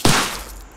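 A single loud, close gunshot in a fan-made My Little Pony video game, a sharp crack that decays quickly into a short rumbling tail.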